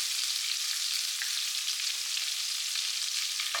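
Diced carrot, thyme and scallion with a little grated ginger and garlic sauté in a pan, giving a steady, loud, even hiss of sizzling oil with faint scattered crackles and no talking.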